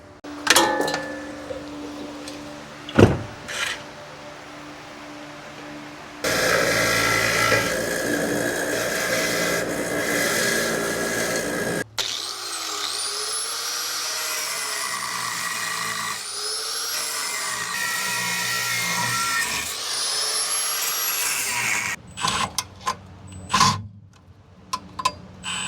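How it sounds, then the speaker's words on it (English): A wire wheel on a power tool scrubs rust off a brand-new ball joint for a Ford Galaxie front end, a steady gritty whine running in long bursts with a few sharp knocks and pauses between passes. "I'm going to go ahead and wire wheel this rust off of this brand new ball joint real quick"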